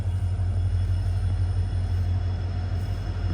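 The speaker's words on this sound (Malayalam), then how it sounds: "ഡീസൽ ലോക്കോമോട്ടീവ് ആണ്." A passenger train hauled by a WDP4 diesel locomotive runs along steadily, a heavy low rumble and engine drone holding constant throughout, with no voices.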